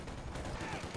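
Dense, continuous gunfire crackles through a video game match, a rapid volley of overlapping shots at steady loudness with no pauses.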